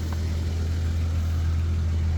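A 1996 Toyota Land Cruiser with its 1FZ-FE inline-six runs steadily, a deep, even engine drone heard close and continuous with no voices over it.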